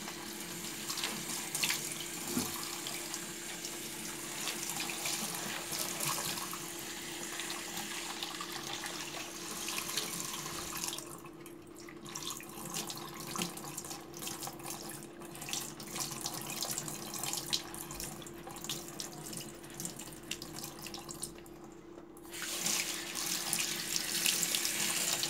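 Tap water streams steadily into a sink, running over black pepper in a strainer with a constant hiss and splash for the whole stretch, close and fairly loud.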